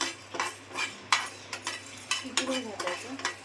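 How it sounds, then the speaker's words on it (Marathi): Garam masala dry-roasting in a pan for a Malvani chicken rassa, stirred with a metal spoon that scrapes and clinks in an uneven rhythm over a soft background sizzle, close by with no voices. "आता गरम मसाला हा सगळा आम्ही एकत्रच टाकते थोडा वेगळा भाजून घेते"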